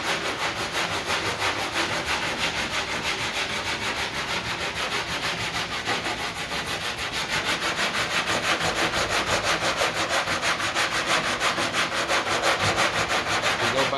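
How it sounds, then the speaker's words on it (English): Hand sanding over body filler on a dented car panel, a steady back-and-forth rasp of abrasive paper that continues for the whole stretch, close up and fairly loud, growing slightly stronger toward the end with no voices. "So what I'll do is I'll sand till that goes away, and hopefully there's enough bondo there"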